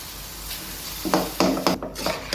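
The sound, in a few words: onion and chicken frying in a pan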